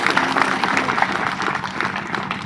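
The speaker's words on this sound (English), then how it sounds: "Let us give a big round of applause for these magnificent drummers" Crowd applause at a church conference for Rongmei drummers in Nungba: a continuous, fairly loud wash of many clapping hands with faint crowd voices mixed in.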